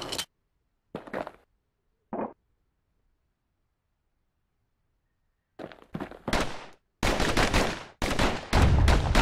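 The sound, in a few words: slinger pistols firing in the video game Bastion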